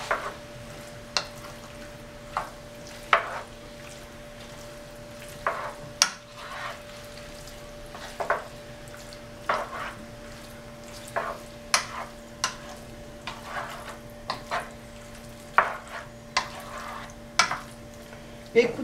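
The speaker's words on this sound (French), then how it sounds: "je vais attendre que la viande revienne bien." Turkey escalope browning in a frying pan, a steady soft sizzle running underneath with repeated short clinks and scrapes of a utensil stirring the meat every second or two.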